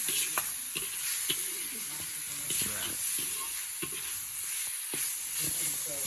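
Chowmein sauce of soy sauce, tomato sauce and vinegar sizzles steadily in a hot pan, a constant bright hiss broken by scattered stirring clinks and scrapes.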